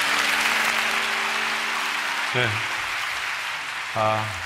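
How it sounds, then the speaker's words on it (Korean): A church congregation at a Daniel prayer meeting applauds the guest speaker with a sustained wash of clapping, while a voice speaks over it and briefly rises twice near the end. "우리 강사님 위해서 박수 한번 하겠습니다"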